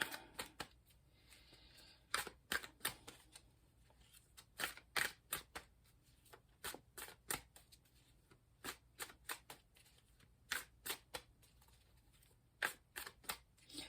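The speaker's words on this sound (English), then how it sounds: "I like to give them a really good shuffle on camera" Tarot cards are shuffled repeatedly in quick riffling bursts, each a short crisp flutter, recurring in an irregular rhythm close by with no talk.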